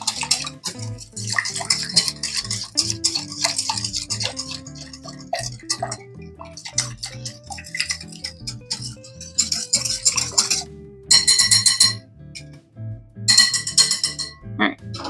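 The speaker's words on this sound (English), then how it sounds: "Let's just give this a quick whisk." A whisk clatters and scrapes against a bowl while eggs, vegetable oil and vanilla are beaten together for a chocolate cake batter, giving a busy, uneven clinking rhythm up close with brief pauses.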